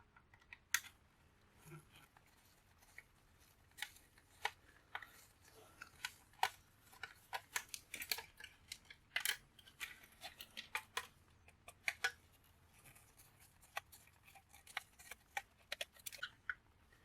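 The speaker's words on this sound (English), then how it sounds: "I just have a bunch of screws I got to remove." Small screws being worked loose from a Nintendo Wii during scrapping, heard as scattered faint ticks and metallic clicks with irregular rhythm over a quiet background hum, no voices.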